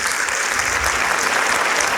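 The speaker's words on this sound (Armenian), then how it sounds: "մի հատ ծափահարեք, խնդրեմ" Steady, dense applause from a stand-up comedy audience fills the whole stretch at a constant loud level, with no voices standing out.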